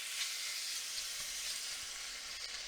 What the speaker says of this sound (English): A little bit of olive oil in with those marinated shrimp.